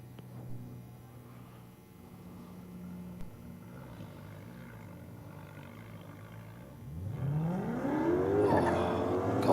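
An ISF drag car at a no-prep drag racing event in Australia rumbles with a revving, warbling engine, then swells into a loud, sustained roar of a rear-tyre burnout toward the end.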